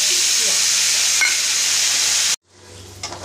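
Ginger-garlic paste spits and sizzles loudly in hot oil with cinnamon, cloves and a bay leaf for a raw-banana kofta curry, a steady close hiss with faint stirring that cuts off abruptly, then a quieter simmer resumes.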